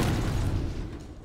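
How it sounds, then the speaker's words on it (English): Grenade blast in a video game, a loud low rumbling boom that fills the whole moment and slowly fades, heard up close with no talk over it. "I just almost killed myself with grenades"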